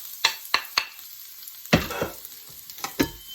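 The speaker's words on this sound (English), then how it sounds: "And garlic. Garlic doesn't take long to cook." Garlic cooking in a pan with turmeric, heard as a few sharp scrapes and taps of a utensil over a quiet background sizzle, with a louder stirring burst in the middle.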